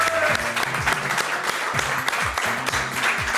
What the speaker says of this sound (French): Vous pouvez les applaudir encore.